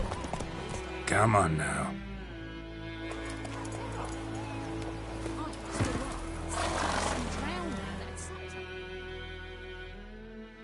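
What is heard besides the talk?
horse Roach hooves and whinny, from a video game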